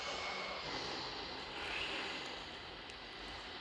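Turboprop engines in a flight simulator game give off a steady, faint broadband roar and whine that holds evenly throughout.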